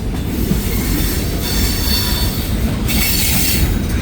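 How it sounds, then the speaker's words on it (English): A freight train's DPU locomotive engine growls as it notches up, amid continuous loud rumbling rail noise and wheel sounds on a cold, windy morning in Hamilton. "Listen to that growl. He just notched up. The DPU's just notched up."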